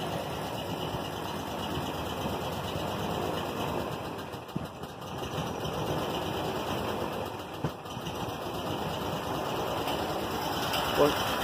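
A boat engine on a custom flounder boat runs steadily at a low, rough idle while the throttle is tried, with a couple of small knocks; a person talks over the engine noise.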